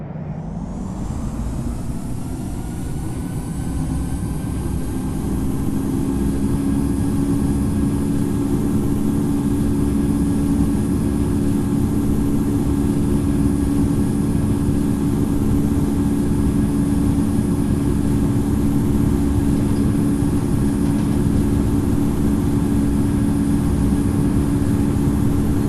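A Boeing 787-9's jet engines spool up for takeoff in the Infinite Flight game, a continuous loud roar with a low, droning hum that builds in the first seconds and then holds steady throughout.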